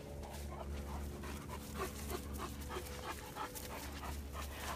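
A Great Dane pants rapidly and steadily with an occasional soft whimper during a training session, close and fairly quiet, with no talking.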